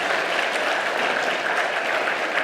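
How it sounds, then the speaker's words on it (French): Sustained, dense applause from a large crowd at a university academic-year opening ceremony after the Prime Minister's speech, steady and loud throughout with no pauses. "Applaudissements nourris"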